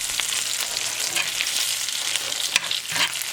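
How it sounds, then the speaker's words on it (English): Morel mushrooms fry in a pan with steady crackling and popping sizzle, a dense bright hiss with sharper spits scattered throughout, close up. "Listen to that crackle."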